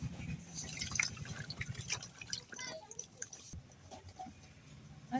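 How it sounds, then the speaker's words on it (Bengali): Keora fruits being washed by hand in a small basin of water, with splashing and dripping sounds that come in bursts, a brief pause, then more trickling close by. "কেওড়াগুলো আমি প্রথমে ধুয়ে নেব।"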